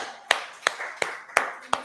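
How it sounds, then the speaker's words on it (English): Five sharp, evenly spaced hand claps ring out close by, each a crisp single smack with a brief decay, at moderate loudness. "One big clap."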